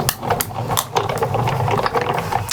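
A die-cutting machine feeding cardstock through for die-cut background elements, a busy close mechanical whir with rapid rattling and clicking ticks running steadily throughout.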